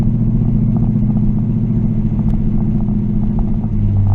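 A car with a newly installed transmission servo, a Chinese-built Corvette replica, drives along with a steady loud engine drone; gear changes pass as subtle shifts in the continuous rumble.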